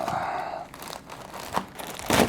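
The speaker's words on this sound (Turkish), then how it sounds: "Hadi bakalım kutuyu açalım." Cardboard and packaging crinkle and tear as a box of counterfeit AirPods Max headphones is opened, with soft rustling and a few sharper ripping bursts close by.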